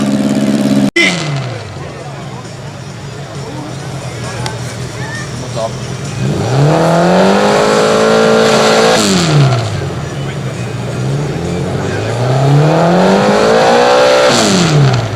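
Garden pulling tractor at a competition revs its engine in two long swelling rises that each fall away, loud and nearby, over crowd noise and a voice talking.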